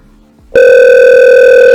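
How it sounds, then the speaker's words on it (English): A telephone call being dialed through a CRM phone connector: a loud, steady electronic tone starts abruptly after a brief quiet moment and holds to the end. "Click on it to dial call and communicate with the prospect."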